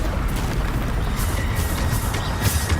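Bombarda explosion spell cast repeatedly in Hogwarts Legacy, a dense rumbling boom with sustained crackling blasts filling the whole stretch, loud and continuous with short bright bursts on top.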